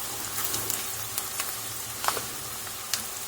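Tempering sizzles in a pan for Egyptian yellow lentil soup, a steady close crackle with scattered sharper pops and faint clicks, no voices.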